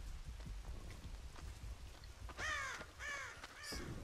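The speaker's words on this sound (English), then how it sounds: "This dumb bird scared me" Several harsh crow caws ring out in the Dead by Daylight horror game, three drawn-out calls in quick succession over a low rain-like ambient bed.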